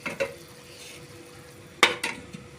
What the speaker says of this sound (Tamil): இப்போ மூடி போட்டுடலாம்.